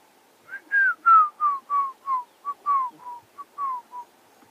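A person whistles a mimicked bird call on a safari drive: about a dozen short, clear descending whistled notes in a quick, slightly uneven series, close and alone against quiet.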